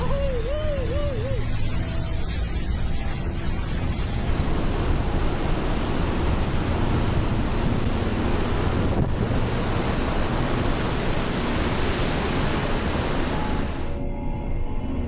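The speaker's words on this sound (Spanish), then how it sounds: "Muchas veces el oleaje en el mar puede ser tan fuerte que partes de la plataforma quedan casi sumergidas en el agua" Heavy sea swell pounds against an offshore oil platform, a continuous roar of surging, crashing water under strong wind buffeting the microphone.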